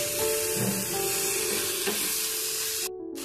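Cabbage simmering in milk thickened with cornflour is stirred in a pot, a close, steady scrape and bubbling sizzle that holds throughout and cuts out briefly near the end.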